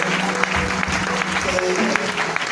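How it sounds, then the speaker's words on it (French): A church congregation applauds in a steady, dense wash of clapping that fills the room, close and loud, with scattered voices and cheers mixed into the ovation. "Je souhaite qu'on acclame"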